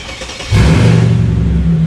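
A Mercedes CLK500 V8 fitted with long-tube headers kicks up sharply from quiet into a loud, deep, throaty rev that holds steady nearby.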